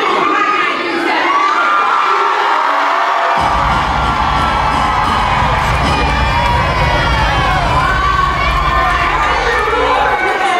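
A concert crowd at The Webster in Hartford roars continuously, with loud cheering, shouting and whooping that swells into a dense, full-bodied wall of noise.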